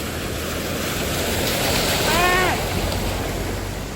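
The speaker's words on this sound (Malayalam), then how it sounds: "നല്ല വെള്ളം ഒഴുകി വരുന്നുണ്ട് കേട്ടോ" Steady broadband rush of flowing water fills the clip, with a brief faint tonal sound partway through; no speech.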